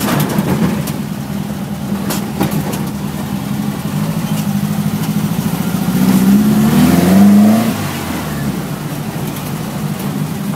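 A black Volkswagen Beetle-style car engine revs up hard while accelerating into a curve, a loud rising growl swelling mid-clip over a steady running drone, close by.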